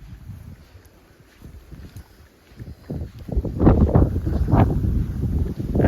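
Gusting wind buffets the microphone, starting soft and growing into loud, rough rumbling bursts in the second half.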